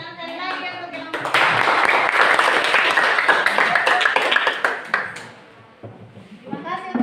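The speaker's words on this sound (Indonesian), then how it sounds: "Tepuk tangan sekali lagi untuk kelompok." Classroom applause for a student group: a short voice first, then a dense, loud round of clapping from many hands for about four seconds, tapering off before talking resumes.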